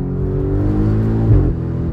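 An Audi RS6 engine revs steadily from inside the car while driving, a loud, continuous low growl that swells briefly near the middle before settling, with no talking.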